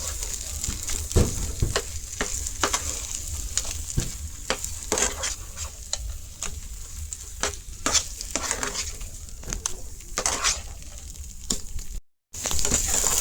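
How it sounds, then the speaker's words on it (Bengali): Wheat flour halwa with fried nuts stirred steadily in a pan, a continuous run of close, loud scraping and sizzling strokes, briefly cut off near the end. "এটা দিয়ে খুব ভালোভাবে মিশাই।"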